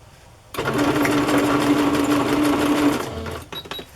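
Sewing machine running a zigzag stitch across a journal pocket, a steady close whirring for a few seconds that starts abruptly and winds down.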